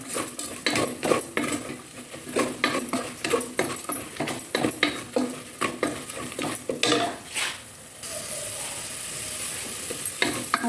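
Beef mandi base with onions being sautéed in a pan, a spoon scraping and clattering against the metal in quick irregular strokes over a steady close sizzle, with a brief pause near the end.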